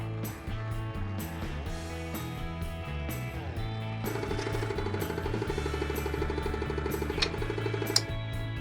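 Wood being sanded with a power tool: a steady, buzzing mechanical whir with rattling grit that continues throughout and grows slightly rougher and louder midway.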